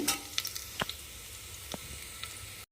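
Food sizzles in a frying pan during home dinner cooking for aloo paratha, a steady soft hiss broken by a few sharp clicks and stirring taps, close by with no talking.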